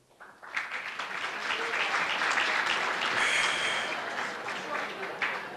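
A gala audience bursts into steady, full applause for an introduced school superintendent, building quickly and holding at an even level for several seconds.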